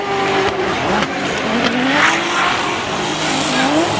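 A BMW drift car on track at Formula Drift Japan, its engine running rough and unhealthy while the tires squeal and skid, a loud, steady roar with shifting pitch.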